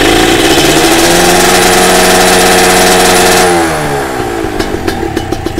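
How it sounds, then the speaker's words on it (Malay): Kawasaki RR motorcycle engine held at steady throttle, a loud close buzzing drone at constant revs that drops after a few seconds into a rougher, lower idle with a few sharp pops. "Dengan aku statikkan aku punya throttle macam gini lah contohnya."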